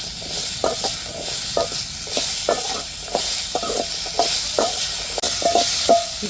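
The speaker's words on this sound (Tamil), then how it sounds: "இப்போ நல்லா வதக்கி விடுவோம். எண்ணெயிலேயே நல்லா வதங்கட்டு." Small onions sautéing in oil for a fish curry crackle and sizzle close up, while a spoon scrapes the pan in regular strokes about every half second.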